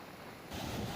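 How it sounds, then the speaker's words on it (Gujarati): Fast-flowing floodwater in a river in Botad, Gujarat, after heavy rain upstream: a steady rushing roar that jumps louder halfway through and holds. "જોકે પાણીનો તેજ પ્રવાહ છે"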